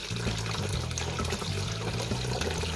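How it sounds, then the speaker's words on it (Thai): Tap water runs gently and steadily while sago is rinsed. The stream pours continuously close by, with no speech. "เปิดน้ำเบาๆนะคะเปิดน้ำเบาๆนะคะ ล้างไปเรื่อยๆนะคะ"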